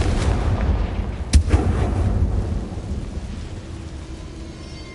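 Confringo fire spell blast from the Hogwarts Legacy video game: a loud booming rumble with one sharp crack near the middle, trailing into a dense, fading roar.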